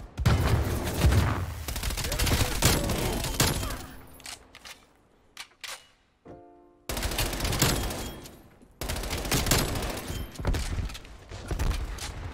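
MP5 gunfire in Call of Duty Cold War, fired from a crouch: loud rapid bursts of automatic shots come in two main stretches split by a short quiet gap with faint mechanical clicks.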